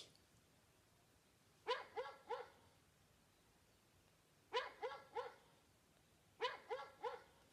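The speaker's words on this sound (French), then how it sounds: "C'était l'aboiement du chien." A dog barks in three separate bursts of three quick yaps each, moderately loud against a quiet background, with pauses between the groups.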